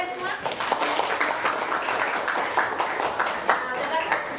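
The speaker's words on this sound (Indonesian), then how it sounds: "Tepuk tangan buat kalian semua." Classroom of students clapping their hands together, a steady dense patter of many claps lasting the whole stretch, fairly loud and close with some voices mixed in.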